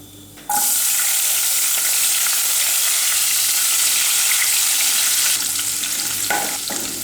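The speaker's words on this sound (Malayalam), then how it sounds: "നന്നായിട്ട് പൊട്ടിയതിന് ശേഷം നമുക്കിതിലേക്ക് ഇഞ്ചി അരിഞ്ഞതും വെളുത്തുള്ളി അരിഞ്ഞതും പച്ചമുളകും കൂടെ ചേർത്ത് കൊടുക്കാം" Chopped ginger, garlic and green chillies hit hot oil after the tempering has popped, for a mutton liver fry. A sudden loud, close sizzle erupts and holds as a dense hiss, easing slightly near the end, with a couple of utensil clinks.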